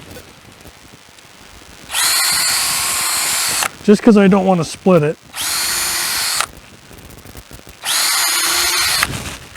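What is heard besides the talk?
power drill drilling holes through a ripped 2x4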